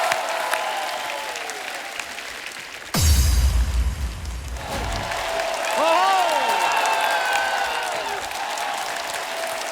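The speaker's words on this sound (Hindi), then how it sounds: "एक बार जोरदार तालियों से स्वागत कीजिए नए टैलेंट का।" Studio audience at a comedy talk show bursts into loud applause mid-clip, a dense clapping roar that fades into lighter clapping under a voice and background music.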